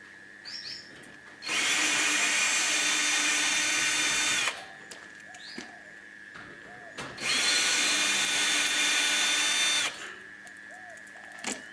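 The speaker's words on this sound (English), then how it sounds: "so we've removed all the screws from the frame to the pallet," A power drill backs screws out of the frame and pallet of an IBC tote in two loud, steady whirring bursts of about three seconds each, with birds chirping faintly outdoors in the pauses.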